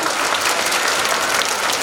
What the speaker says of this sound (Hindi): जोरदार ताली बजनी चाहिए सर को